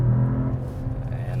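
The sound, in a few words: Mercedes-AMG E53 engine heard inside cabin, exhaust on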